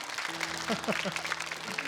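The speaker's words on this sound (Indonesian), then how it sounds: "Tepuk tangan buat Kang Ari" A studio audience at a televised Quran recitation competition applauds in a steady wash of clapping while people talk over it.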